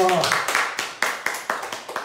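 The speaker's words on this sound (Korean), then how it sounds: "하나님께 영광의 박수 올립시다" A church congregation at a Sunday worship service claps in a steady rhythm, about eight or nine sharp beats spaced evenly, after a brief voice at the start.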